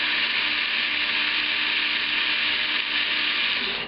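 An electric spice grinder whirs steadily at high speed, grinding spices with mace or nutmeg added for a final grind; a loud, continuous buzzing drone lasting the whole time with no pauses or talk.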